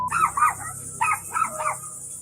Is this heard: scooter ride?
no